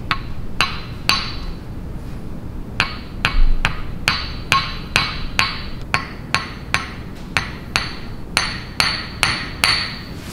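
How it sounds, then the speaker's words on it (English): Sharp metallic hammer strikes from a custom chiropractic hammer ring out on a tool held against a patient's spine, about twenty loud, crisp taps in uneven clusters over a quiet background. "You're going to put that on her spine and then hammer it over?"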